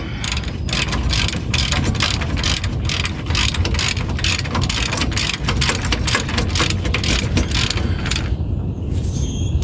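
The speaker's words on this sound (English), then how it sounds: "my ratchet. Put my 18 on it. Tighten these up." A ratchet fitted with an 18 socket rapidly clicks while tightening brake bolts on a 1999 Ford F350 dually during a rotor and pad job, steady close clatter with wind noise across the mic.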